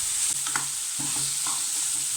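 Ginger paste sautéed with onion in a pan: a constant hiss of frying under a few scraping strokes and soft knocks from stirring, close up and without speech.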